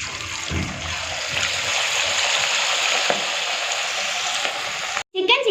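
Pieces of Chicken 65 deep-fry in hot oil, a loud, steady crackling sizzle that fills the scene without pause, then cuts off abruptly near the end before a brief clatter.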